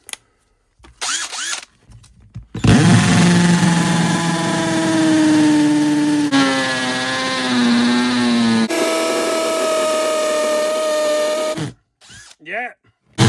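A power drill set to hammer action bores into brick, its loud, close motor whining steadily for about nine seconds with shifting pitch, bracketed by brief handling knocks and quiet.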